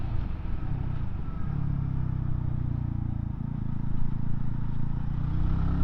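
A BSA 350 Bantam motorcycle engine drones steadily while being ridden through the gears and into corners. Its low, even tone shifts pitch slightly partway through, with no voices over it.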